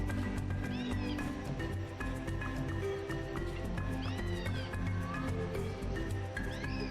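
A video game cat meows repeatedly, with several rising mewing calls spaced across a dense, busy game soundtrack and no voices over it.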